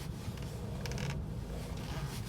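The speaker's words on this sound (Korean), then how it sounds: "고무 씹히는 소리거든요." A quiet, brief rubber creak grinds once against a low background hum, with a fainter rub near the end, as a car's steering wheel turns, likely from a shock absorber mount.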